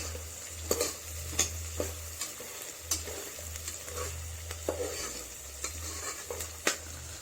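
Mint leaves and green chilies sautéing in ghee for ghee rice: a continuous sizzle with a low hum underneath, and regular spoon scrapes and clinks against the pot.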